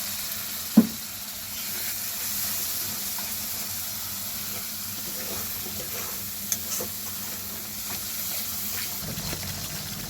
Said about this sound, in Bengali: এবার এই মশলার মধ্যে মিক্সির বাটি ধোয়া জলটা দিয়ে দেবো, দিয়ে আর একটু ভালো করে কষিয়ে নেব।